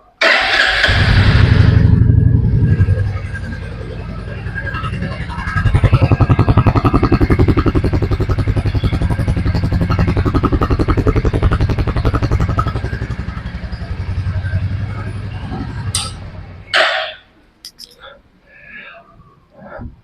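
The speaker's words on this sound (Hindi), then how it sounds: "दोनों बाइक्स की साउंड चेक करते हैं और देखते हैं कि किसकी साउंड बेटर है।" A new Royal Enfield Bullet 350 motorcycle engine running close by, a loud thumping idle and revving that swells and settles over many seconds before cutting off near the end, leaving brief clatter and quiet.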